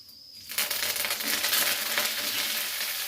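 Mustard seeds, with fennel and cumin, hitting hot oil: a quiet start, then a loud, dense crackling sizzle with rapid popping that continues steadily up close.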